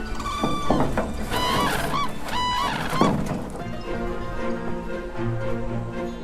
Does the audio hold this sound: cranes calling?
yes